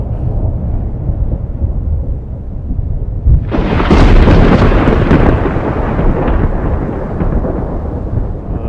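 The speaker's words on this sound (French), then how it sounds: "donc il y a une petite séquence d'orage" Rain and low rumbling fill the air, then a heavy thunderclap crashes in and rolls on loudly, slowly fading into a continuing storm.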